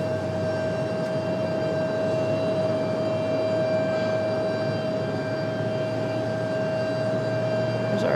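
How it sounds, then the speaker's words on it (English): Airbus A321 airliner at Raleigh-Durham airport, a steady, broad engine roar with a sustained tonal whine, constant and unbroken throughout. "There's our A321."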